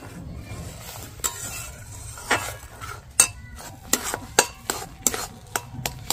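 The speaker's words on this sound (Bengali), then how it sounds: "খুব ভালো করে এবার সুজিটা এর সাথে জাল করে নেব।" Semolina roasting in a pan over low heat, stirred with a utensil that clinks and scrapes against the metal in quick irregular strokes over a faint sizzle, close and without talk.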